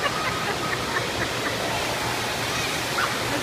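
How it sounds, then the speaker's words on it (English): Steady, broadband rushing water like a waterfall, constant and fairly close, with no breaks or voices. "Waterfall."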